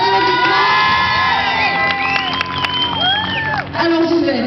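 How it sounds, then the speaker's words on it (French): Loud crowd cheering and shouting at a motorcycle event in Nîmes, with high children's voices whooping and some applause mixed in, sustained throughout. "un tonnerre d'applaudissements"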